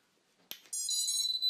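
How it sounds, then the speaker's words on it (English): After a soft click, a quadcopter's ESC startup beep sounds as a LiPo battery is plugged in, a bright electronic tone in short high-pitched steps, a close, sustained beep lasting about a second. "You can hear when the ESC started up, there was also a bit of a beep."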